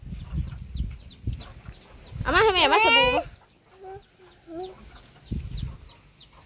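Chickens cluck nearby in short bursts, with one long, loud crowing call in the middle, while a person talks intermittently.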